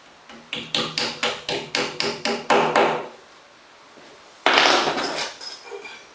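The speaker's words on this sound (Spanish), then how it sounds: "Apoyado de nuestro martillo." A rapid series of about ten evenly spaced hammer blows on wall anchors while mounting an articulating TV bracket, close and sharp, then a pause and a longer scraping knock.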